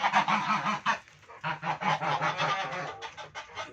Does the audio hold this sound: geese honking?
yes